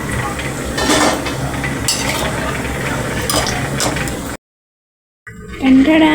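Fried pakoras lifted out of a pan of hot oil, with soft frying sizzle and light metal scraping and clinks of a utensil, then a brief silence before louder sizzling resumes.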